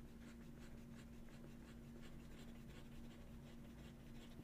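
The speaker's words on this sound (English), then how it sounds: "Fast writing." An Opus 88 Mini Pocket fountain pen with a wet stub nib writes fast on paper, giving close, faint, rhythmic scratchy strokes over a low steady hum.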